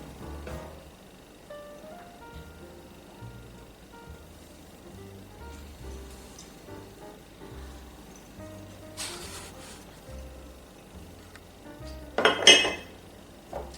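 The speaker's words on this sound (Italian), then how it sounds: "e mescolo tutto insieme." Rice cake mixture of chopped almonds, candied citron and amaretto liqueur stirred in a bowl, soft repeated scraping and tapping of a utensil with a sharp clatter near the end.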